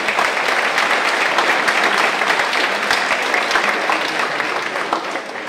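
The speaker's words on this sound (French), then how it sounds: "Je pense qu'on peut les applaudir." An audience at a public mathematics lecture applauds in a dense, sustained burst of many clapping hands, loud and even throughout, tapering very slightly toward the end; no voices.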